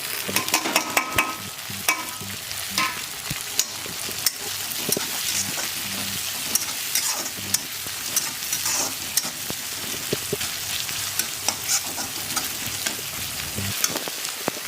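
Onions fry in a pan for a fried-rice dish made from leftover rice, with a dense, continuous sizzle and crackle and frequent small scraping stirs, close and steady throughout and no voices.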